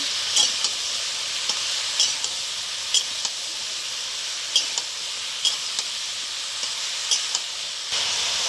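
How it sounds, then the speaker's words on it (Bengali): Radhuni, ginger, poppy seeds, cashews and salt stirred in a frying pan for a bottle gourd shukto. A constant hissing sizzle carries sharp spatula clicks and scrapes at an irregular pace, with no voices. "স্বাদ মতন নুন দিয়ে দিলাম, ভালো করে নেড়ে নেব।"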